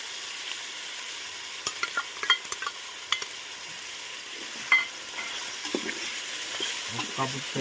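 Chicken stirred in a pot for biryani, with irregular scraping and clinking strokes of a spoon over a soft, low sizzle, close by, with a louder knock near the middle and quiet gaps between the strokes.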